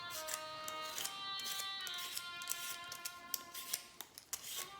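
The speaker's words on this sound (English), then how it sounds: "just roughly peel your ginger" Fresh ginger being roughly peeled, a faint series of thin, scraping, rasping strokes that repeat irregularly, close and quiet, with no talking.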